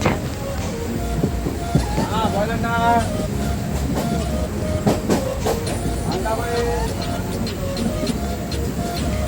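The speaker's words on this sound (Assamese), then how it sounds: "এয়া ৰেলৰ ভিতৰত" Inside a moving passenger train travelling from Guwahati to Bokakhat, a steady rumble and rhythmic clatter of wheels fill the carriage, with people talking throughout.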